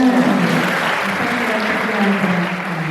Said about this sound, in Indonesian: Tepuk tangan untuk ekspor.